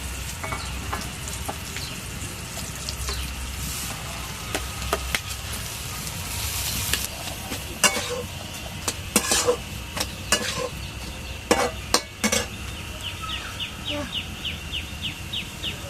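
Mashed potato and cauliflower stirred and frying in a kadai, with steady low sizzling and repeated sharp scrapes and clinks of a utensil against the pan, growing busier toward the end, with faint bird chirps in the background.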